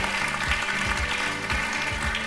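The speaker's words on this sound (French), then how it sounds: "Je vous propose d'applaudir Irina et Marc-André." Studio audience applause on a French Saturday-afternoon TV game show, a steady wash of clapping held at even loudness for a couple of seconds, with faint musical tones beneath.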